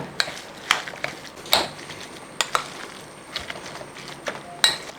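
A spoon stirs the ingredients of a Kerala evening snack in a bowl, giving sharp, irregular metallic clinks and scrapes against the bowl, close and clear with no talk.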